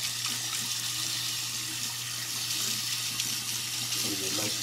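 Hot water runs hard into a sink while a Volcano S30 cylinder head is being cleaned, giving a constant close hiss and splash over a low steady hum, without a break.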